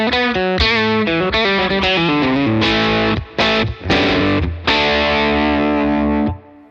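A high-gain electric guitar plays through a Victory VC35 The Copper amplifier, with the tone pulled down and reverb dropped. Loud distorted chords and notes ring out in a quick changing phrase, then fade out at the end.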